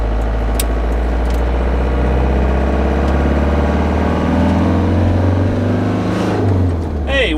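An old RV engine runs with a steady low rumble and idles close by with no letup.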